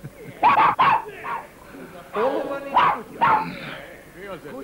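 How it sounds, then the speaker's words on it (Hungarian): A dog in an indoor scene barks and yips in several short, loud bursts, mixed with whimpering, while people talk over and between the barks. "Kutya ugatást hallottam."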